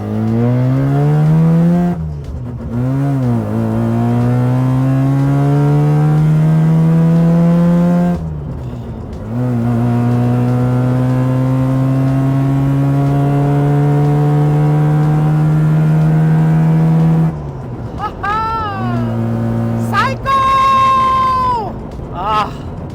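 A Mazda RX-7 engine, recently running poorly, revs up and shifts gears repeatedly, its pitch climbing and dropping with each shift, loud and close from inside the car.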